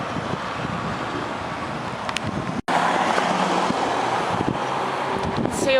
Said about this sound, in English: noticed some cars go really fast around this roundabout